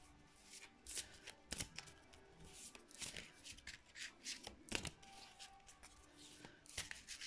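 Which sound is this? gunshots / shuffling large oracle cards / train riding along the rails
shuffling large oracle cards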